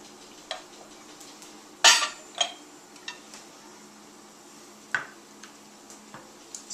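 A spoon clinks and scrapes against dishes while pork chops are plated, light separate taps with one louder clatter near the start, no voices.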